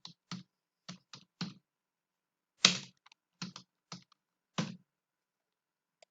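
Keystrokes on a computer keyboard while a résumé is typed out, in short separate bursts of a few clicks each with a single louder strike near the middle, close and fairly faint, with no voices.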